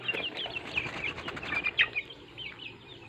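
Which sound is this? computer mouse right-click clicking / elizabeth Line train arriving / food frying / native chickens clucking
native chickens clucking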